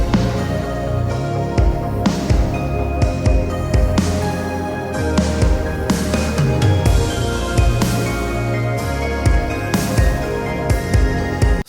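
A big rock-style pre-chorus build-up from a pop sample pack demo, with dense drums, bass and layered instruments playing continuously and loud throughout, no voices.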